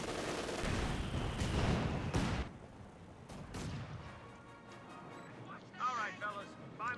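A Panther tank firing at riflemen in the World War II strategy game Company of Heroes 2, heavy booming shots and crashing battle effects under an excited commentator's talk, fading to quieter rumbles.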